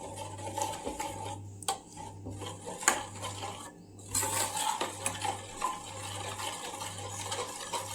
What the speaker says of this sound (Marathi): आता हे व्यवस्थित असं ढवळून घ्यायचं आहे